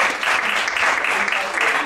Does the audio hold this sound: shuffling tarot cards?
no